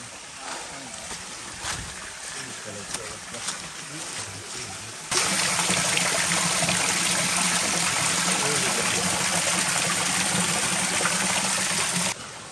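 Water rushing along a rocky forest stream on the Sonaichari trail near Chittagong, a constant close wash of flow that swells suddenly louder partway through and stays full.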